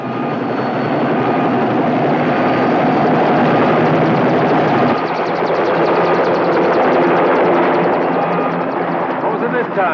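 A rescue helicopter taking off, its engine and rotor noise loud and close, swelling and growing harsher midway as the blades beat faster, with no talk over it.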